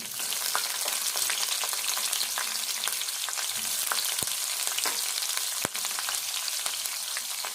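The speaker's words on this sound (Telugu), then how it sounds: "ఇప్పుడు ఉల్లిపాయ వేసుకుందాము" Chopped onion fries in a hot tempering for an ivy gourd and potato curry, a loud, dense sizzle with scattered sharp pops and crackles running steadily, no talking.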